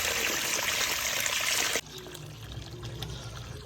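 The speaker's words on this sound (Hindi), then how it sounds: "पानी देख कैसे टपक रहा है, इसके टपक टपक" Spring water splashes and trickles over freshly washed cherries in Skardu, a strong rushing pour that suddenly drops to a softer, steady dribble.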